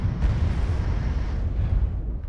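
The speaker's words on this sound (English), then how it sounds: "Launching missiles." Missile launches and explosions from the Wargame AirLand Battle war game, a continuous loud low rumble with a sharp burst near the start and more booms rolling under it, no talk.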